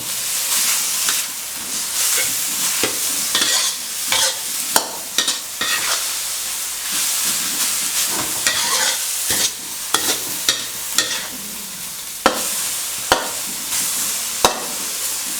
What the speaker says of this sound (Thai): นี่นับผัดจนหมูสุกนะครับผม